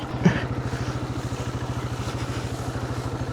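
An Aveta Marvel 150 motorcycle modified for offroad riding runs on a trail, its engine idling with a steady, fast low-pitched chug. One brief louder knock sounds near the start, then the rhythm stays even and close.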